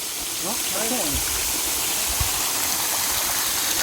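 A stream or small waterfall rushes steadily and loudly, a broad continuous wash of flowing water, with a voice speaking briefly over it near the start.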